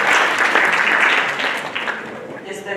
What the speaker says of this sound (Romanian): Și vă rog, în aplauze, să ne întâmpinăm.